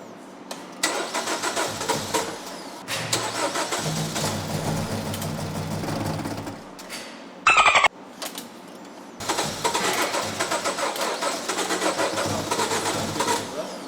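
A Jeep Cherokee engine cranks in repeated long bursts as it tries to start, with a short pause near the middle. The sound is close, loud and mechanical, and no one speaks over it.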